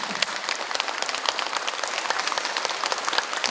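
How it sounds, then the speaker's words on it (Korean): Dense, even applause from a large audience at a Buddhist ceremony, a steady crackle of many clapping hands heard moderately far off and without voices. "박수 한번 보내주시면 어떠겠습니까?"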